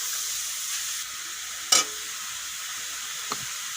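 Grated papaya fries quietly in a pan with a soft, even sizzle, broken by one sharp clatter of a utensil and a fainter tap later on.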